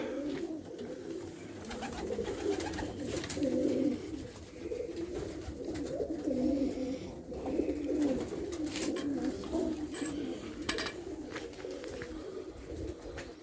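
Pigeons coo steadily in a loft on a frosty late-winter day, a dense overlapping murmur of low throaty calls with occasional wing flutters and rustles, fairly close and continuous throughout.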